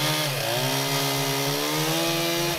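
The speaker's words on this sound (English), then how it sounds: "I mean, we use chainsaws" A chainsaw runs steadily during cleanup work in Alaska, a loud continuous engine drone whose pitch dips and then rises as it revs, with no voices.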